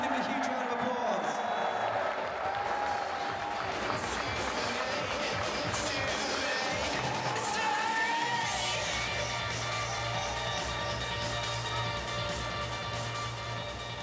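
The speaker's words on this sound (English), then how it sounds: "Give him a huge round of applause." Large outdoor crowd at a Manchester City Premier League title parade cheering and applauding continuously, a dense roar of clapping and shouts under an amplified announcer's voice with music.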